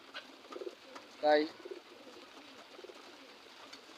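Pigeons in a pigeon house on a rainy day give one brief, close coo partway through, over soft background noise, with a short spoken word nearby.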